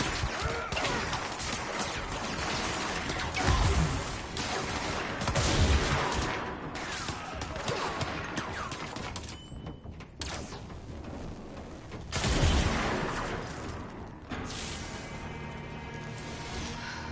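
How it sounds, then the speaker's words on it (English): Gunfire and explosive rocket blasts from a hand-held rocket gun in the video game Control, a dense, loud barrage with several heavy booming hits layered over constant game action. "We need to be far more careful with this giant explosive gun that we got"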